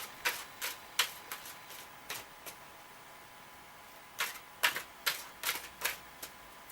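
Soft, crisp snapping clicks come in short irregular bursts as tarot cards are riffled and shuffled close by on a quiet table.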